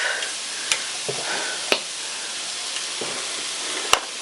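Vegetables for soup sauté in vegetable oil with a steady, close sizzle, broken by a few sharp clicks and taps of a utensil against the pan.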